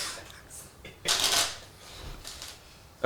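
Playing cards are riffle-shuffled at close range during a card trick performance at an Elk Lodge, a quick crisp flurry of shuffling with quieter handling around it and faint voices.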